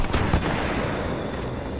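G2 scout rifle fire in the Titanfall 2 video game: a couple of sharp close shots at the start, then decaying echo and a noisy battlefield wash.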